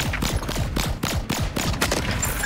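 Rapid video game gunfire rattles in quick overlapping bursts, loud and dense with booming low-end thumps, one shot after another across the whole stretch without talking.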